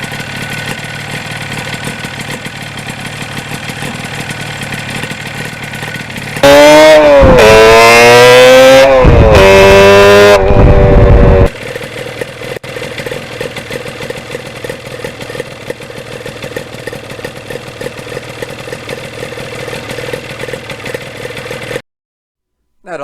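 A 1977 Yamaha RD400 two-stroke motorcycle with tuned expansion chambers idles with a steady crackling burble, broken in the middle by a few loud, sharp revs that rise and drop before it settles back to idle and cuts off.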